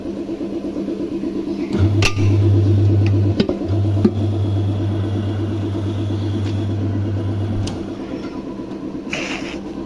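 A tyre changer machine turns to work a tyre off its rim, giving a loud, steady motor hum with a low drone and a few sharp clicks and knocks along the way.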